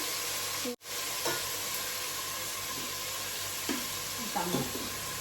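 Tomato and salt stirred and fried in a pan for sambar, giving a steady close sizzle with soft scraping stirs, a brief dropout near the start, and no talk.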